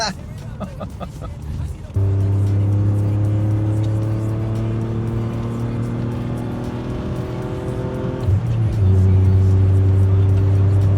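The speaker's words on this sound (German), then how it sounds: "Der Auspuff klingt auch kernig" A BMW E36 323i engine idles with a deep, rumbling exhaust, then revs up sharply and holds a steady drone, dipping briefly before rising again, close and loud.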